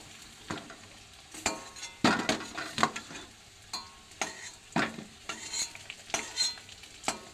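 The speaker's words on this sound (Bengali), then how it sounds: "আলুগুলো এবার তুলে নিই।" A spatula scrapes and clatters in a frying pan as potatoes, fried red in oil for a rui fish curry, are lifted out. Irregular close scrapes ring over a steady sizzle.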